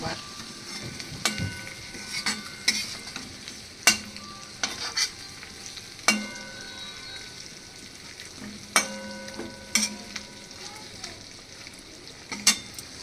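Rui fish frying in a pan as it is flipped, with a low steady sizzle broken by sharp spatula scrapes and knocks at irregular intervals, close and fairly quiet.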